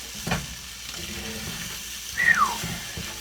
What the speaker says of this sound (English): I would make my bacon in this pan and then cook my eggs in the bacon grease